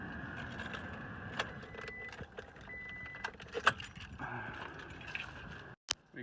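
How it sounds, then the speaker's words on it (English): A bunch of keys jangles and clinks close by in a garage workshop, with scattered light metallic rattles over a steady low background hum and a sharp knock near the end. "Let me grab my keys."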